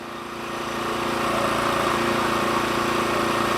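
A sawmill log turner runs steadily, its engine droning at an even, fairly loud level throughout with a low mechanical hum and no voices.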